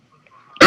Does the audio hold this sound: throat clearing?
yes